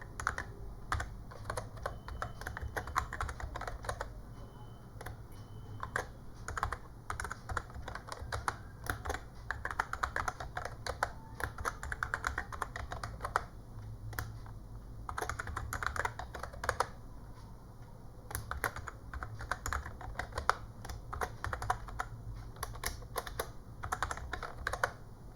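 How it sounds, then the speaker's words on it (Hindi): Steady, rapid typing on a computer keyboard continues for a long stretch, close-miked keystrokes clattering in uneven bursts with short pauses. "So right now I am just typing them here."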